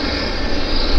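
Steady, close airliner engine roar from a WestJet jet arriving at Vancouver Airport, a broad continuous rumble holding level and swelling slightly toward the end, with no voices over it.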